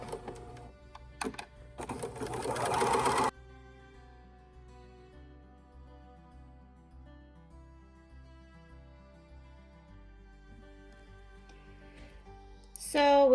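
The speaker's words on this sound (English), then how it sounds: "I'm just going to sew my pocket." A sewing machine stitches a pocket on a tank top, a brief close mechanical whirring burst at the start, followed by quiet background music with no stitching.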